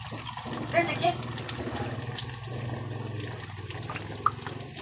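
Water is poured into a cooking pot of sautéed sardines, making a steady close splashing and gurgling pour under a person talking.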